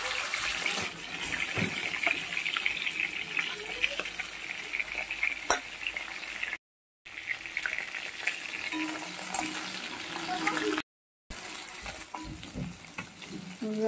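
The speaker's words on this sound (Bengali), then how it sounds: "এইভাবে অন্য মাছগুলোকেও ভেজে নেব।" Bhetki fish fries in hot oil with a dense, continuous crackling sizzle, close up, interrupted twice by brief silent gaps, with occasional stirring or scraping noises.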